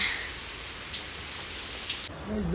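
Steady rain hisses down nearby in a village in Devgad, a soft continuous patter with a couple of brief louder splashes, and a faint voice near the end.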